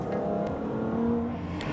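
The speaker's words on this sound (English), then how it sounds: "This really is an Aston Martin Cygnet with a V8 engine from the last gen Vantage S." Aston Martin Cygnet city car fitted with the V8 engine from the last-generation Vantage S, a loud, steady engine drone with rising revs close by, no talk.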